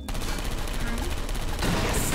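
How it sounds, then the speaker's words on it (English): Turrets in the game Portal Stories: Mel firing rapid automatic bursts at servers, a dense continuous rattle of gunfire filling the whole stretch, loud and close. "The turrets are shooting the servers."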